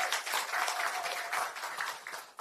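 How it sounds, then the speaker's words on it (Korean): Crowd at an outdoor political election rally in South Korea claps for a candidate being introduced, a quiet, somewhat distant patter of applause lasting a couple of seconds. "큰 박수 부탁드립니다."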